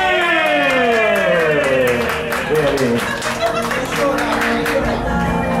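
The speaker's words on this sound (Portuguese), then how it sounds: "Uma salva de palmas pra mim!" Guests at a party in Burgo Paulista, in São Paulo's east zone, clap in a dense burst of applause mixed with laughter and overlapping voices, with a few voices rising high above the crowd.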